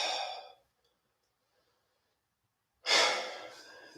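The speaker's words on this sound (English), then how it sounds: "Then exhale." A person exhales audibly during a yoga session, with one breathy sigh at the start, a pause of near silence, then a second long, loud exhale close to the listener.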